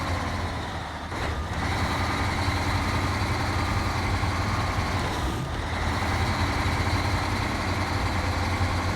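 A truck engine idles in SnowRunner, a steady loud rumbling drone with a constant hum, briefly dipping twice before settling back into the same even idle.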